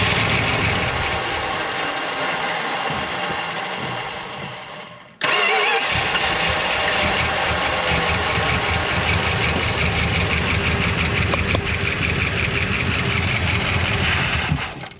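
A 1975 Chrysler Cordoba engine cranks in a loud, rhythmic whir for about five seconds and then stops briefly. It cranks again and catches, running on as a loud, steady idle up close.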